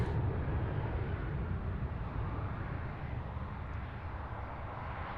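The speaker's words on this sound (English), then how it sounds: "Very nice flyby by the C130." A RAAF C130 military transport aircraft passing over near Sydney Airport, a loud broad engine roar that holds steady and fades only slightly over several seconds, no voices.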